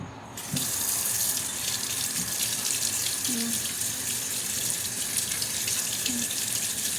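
A tap runs steadily as a ladle is washed under the water, a close continuous rushing stream starting suddenly after half a second, with faint metallic clinks and a voice speaking briefly.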